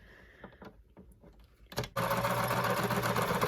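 A sewing machine stitches a fabric bowl cozy slowly over bulky darts; soft handling clicks come first, then the motor whirs in a loud, steady, close run.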